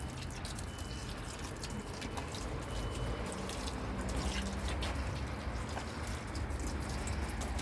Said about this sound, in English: So I just water these plants here.